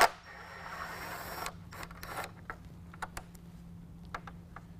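Removing 10 millimeter nuts from grille studs on a 2017 Ford F-150, a quick ratcheting whir followed by sparse sharp metallic clicks and ticks, close and fairly quiet over a low hum.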